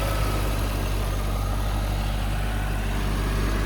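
Mercedes-Benz S63 AMG Designo idles with a steady, low engine rumble and even hum, close and continuous for the whole stretch, with no ticks or irregular wobbles and no talking.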